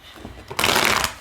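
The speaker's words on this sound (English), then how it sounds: "I can shuffle." A deck of tarot cards is shuffled, starting with a few soft taps and then a dense, close riffling burst of flicking cards lasting about half a second.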